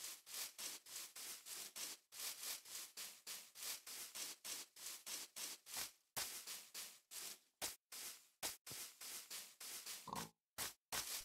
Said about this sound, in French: Hey, petit cochon!